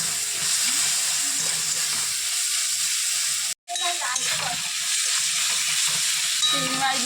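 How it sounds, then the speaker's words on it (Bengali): Prawns being stirred in a spice masala in a pan, a steady loud sizzle and hiss of frying with stirring scrapes, briefly cut to silence midway before the sizzling resumes, close up. "চিংড়ি মাছগুলো দিয়ে একটু নাড়াচাড়া করে দিচ্ছি"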